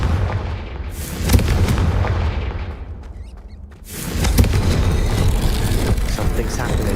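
The Confringo explosive spell cast in Hogwarts Legacy, loud booming blasts over a dense rumbling game soundtrack, with a brief quieter dip before the roar swells again and someone talks under it.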